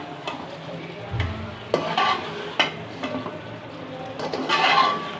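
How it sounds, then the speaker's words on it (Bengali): Meat scrapes and knocks in a cooking pot as chicken curry is stirred, with gentle sizzling frying underneath. A few distinct clanks and scrapes of the spoon come close up with no voice. "2 মিনিট পর আমি মাংসগুলো আবার নেড়ে চেড়ে দিচ্ছি।"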